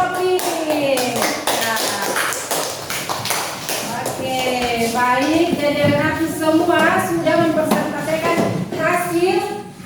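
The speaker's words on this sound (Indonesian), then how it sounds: "Petugas tepuk tangan untuk kelompok" Classroom children clap in a rhythmic pattern for a group, quick taps and claps interleaved with children's chanting voices and talking throughout, close and lively.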